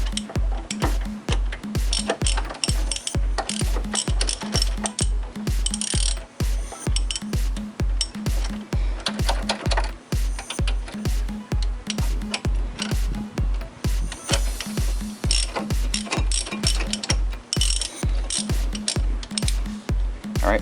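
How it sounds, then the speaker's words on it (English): Rapid, steady ratcheting clicks run nonstop and close as a ratchet wrench loosens the caliper bracket bolts on a car's brake assembly during a pad and rotor change. "these two bolts that hold on the caliper bracket, let's get those off and take the bracket off."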